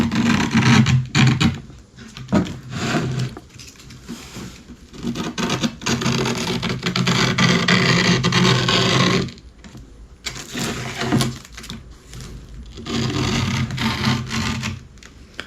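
A screwdriver scrapes along the edge of skateboard grip tape in long, rasping strokes broken by short pauses, loud and close with no talking.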